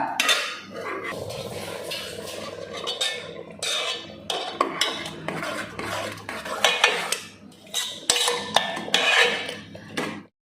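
Roasted coconut is stirred into a raw papaya erissery curry in a pan. A spoon scrapes and clatters against the metal in repeated close strokes over a light sizzle.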